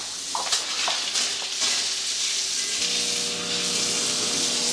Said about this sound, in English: So microwave's working.